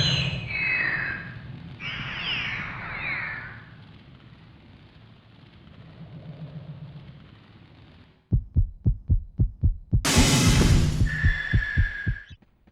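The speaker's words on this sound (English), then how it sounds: "Fighting the stained glass demon, the music going off, and all you hear is the creature's heartbeat." A monster's heartbeat in the video game MediEvil during the stained glass demon fight: a steady series of deep, loud thumping beats entering after eerie sustained music and chiming tones, with a bright noisy burst over the pulses.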